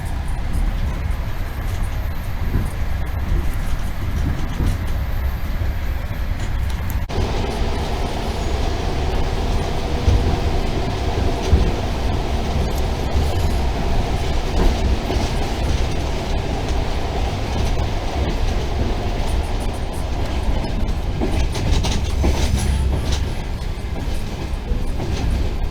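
A train rumbles steadily along the rails for a long stretch between Osh, Kyrgyzstan and Tashkent, Uzbekistan, with a constant low roar, rhythmic clatter and occasional high squeals, heard from inside the carriage.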